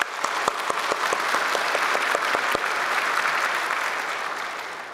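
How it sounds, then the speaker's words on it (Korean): A church congregation at a Full Gospel service claps together in sustained applause, with a few distinct early claps at the start blending into a steady, dense wash of hands that fills the room at even loudness. "전부 다 안도의 박수를 치시는 것 같습니다"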